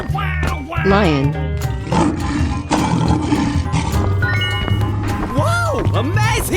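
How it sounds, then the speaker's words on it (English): Lion roar from a 3D animal slide video game, a rough growling call mixed under busy game music and an excited voice shouting over it. "Wow, wow, wow! Lion."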